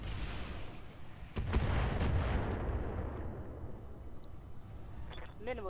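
Mech weapons in Roguetech, a BattleTech mod, fire with a heavy booming barrage, a couple of sharp cracks and then a long rumbling roll that fades, loud and close, with a voice speaking over it.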